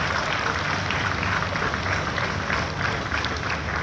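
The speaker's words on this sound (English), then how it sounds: "A big round of applause for ICGS Veer." Audience clapping at an Indian Coast Guard ceremony, a dense, steady wash of applause from a crowd, continuous and fairly loud throughout, with no talk over it.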